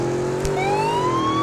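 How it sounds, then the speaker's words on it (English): Police car siren in the Car Crushers 2 video game wails steadily, a rising electronic tone sweeping upward over a constant engine hum, loud and close with no talking. "It does have a siren."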